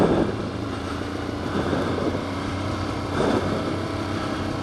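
Motorcycle engine running in second gear on a downhill ride, a steady loud rumbling drone with wind noise and a slight rise in intensity toward the end.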